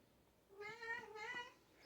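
A pet cat meows for attention at close range with two drawn-out, plaintive cries in quick succession over a quiet room. No one talks.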